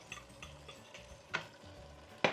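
Içli köfte being boiled in a cooking pot after the heat is turned up, with a soft, steady sizzle and bubbling and a few sharper clicks and ticks scattered through it.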